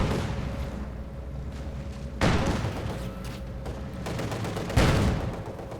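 Gunfire from an MG-42 machine gun in the video game Company of Heroes 2, a dense continuous battle din with two louder bursts standing out from the rattle.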